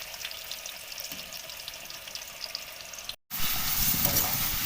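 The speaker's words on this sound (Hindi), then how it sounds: "ये मैं साइड भी इनकी पलट रही हूँ, कुक हो रहे हैं हमारे स्लाइसेस।" Thin potato slices fry for homemade chips, a steady bubbling hiss that breaks off in a brief gap and then returns louder and fuller as they keep cooking, with no voices.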